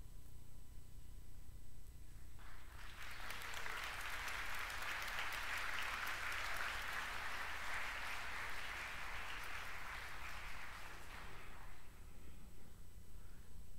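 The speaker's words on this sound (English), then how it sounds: "you got to clap at the old stuff too" Audience applause at an Nvidia presentation rises out of a quiet, hissy room, holds as a broad steady clatter of many hands for several seconds, then fades back to low background noise.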